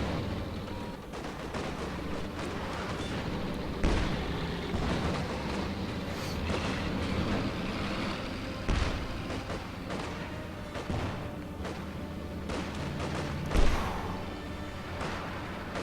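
In the World War II strategy game Company of Heroes 2, a howitzer motor carriage fires amid a battle soundscape of scattered gunfire and heavy booms, with several louder blasts standing out.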